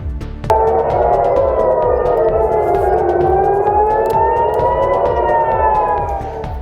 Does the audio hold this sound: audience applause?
no